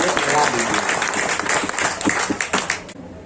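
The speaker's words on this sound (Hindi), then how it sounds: "एक बार जोरदार ताली आप अपने इस प्रयास के लिए लगा दीजिए।" Audience clapping loudly at a gathering of the Bihar Satyagraha Ashram, a dense patter of claps that stays steady for about three seconds before stopping abruptly.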